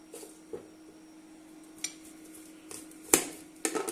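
A knife cuts onion and green chilli on a board at home, giving a few sparse, sharp chops and taps in quiet surroundings, with no talk.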